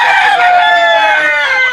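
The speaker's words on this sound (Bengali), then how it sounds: "যে মুরগিগুলো দেখছি এখানে, এই মুরগিগুলো এখন বয়স কত?" Fayoumi hens on a poultry farm crowing and clucking loudly up close, a drawn-out call with sustained tonal warbling over a quiet background.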